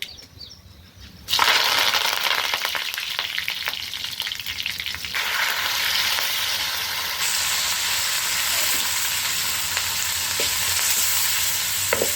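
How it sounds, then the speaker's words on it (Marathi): Mustard seeds hit hot oil for a ridge gourd curry cooked over a wood-fired clay stove, setting off a loud, steady sizzle and crackle that holds for several seconds after a sudden start, close up with no talking. "तेल टाकलं, मोहरी टाकली"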